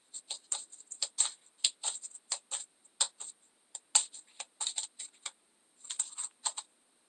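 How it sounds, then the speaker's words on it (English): A deck of cards is shuffled by hand in a steady run of crisp, close clicks and riffles, with a short pause near the end before the flicking resumes. "So I'm shuffling the cards now."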